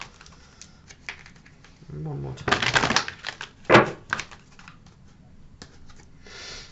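A deck of oracle cards is shuffled by hand in a few quick papery bursts of riffling and clicking, close by, with a voice speaking briefly in between.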